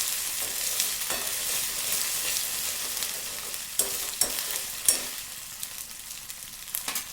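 Poppy seed and roasted coconut paste sizzles in a pan while being stirred, a close frying hiss marked by repeated scraping strokes and knocks, no voices.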